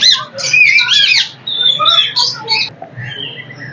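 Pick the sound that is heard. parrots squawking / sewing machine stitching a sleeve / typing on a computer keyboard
parrots squawking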